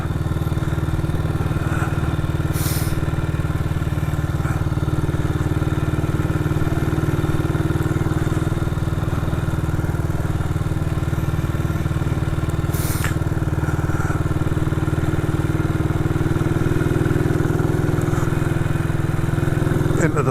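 A 1959 BSA motorcycle runs steadily while being ridden in freezing weather, making a constant loud low engine drone throughout with little change in pitch and a couple of brief higher rattles.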